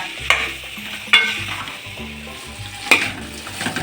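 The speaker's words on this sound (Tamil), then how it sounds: "போட்டு அந்த ஆயிலோட ஒரு 2-3 நிமிஷத்துக்கு நல்லா கலக்கி விடுங்க." Boiled chickpeas and banana stem pieces stirred through hot oil in a pan, a spoon scraping sharply three times over a steady low sizzle, close and alone without talk.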